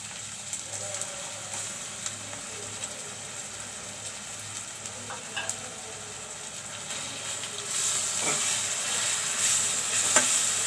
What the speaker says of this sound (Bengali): মশলাগুলো একটু ভালো করে কষিয়ে নেব।